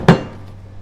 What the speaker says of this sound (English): medium-sized hammer